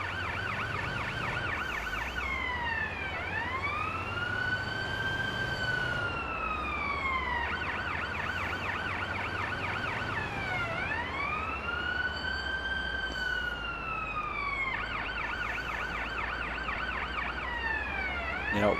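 An ambulance races on a priority response with its siren wailing loudly and without a break, alternating fast yelping bursts with long rising and falling sweeps.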